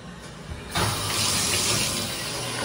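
A cheap shower head in a budget hotel bathroom sprays water, a steady hissing rush that jumps louder after a moment and keeps running evenly, close and alone.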